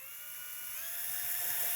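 A prototype drill-based zip target runs with a steady high-pitched motor whine that holds evenly and slowly grows a little louder, with no talking over it.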